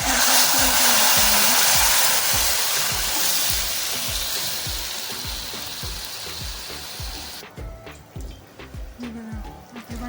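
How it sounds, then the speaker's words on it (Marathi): Water is poured into hot fried masala for a Marathi-style mutton rassa curry. It gives a loud, broad hiss of sizzling that slowly fades, with a steady pulsing rhythm running beneath it. "आता यामध्ये आपण आळणी पाणी टाकून घेणार आहोत."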